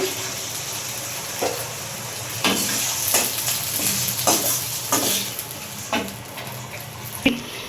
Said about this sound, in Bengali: ফুটানো জল দিব একটু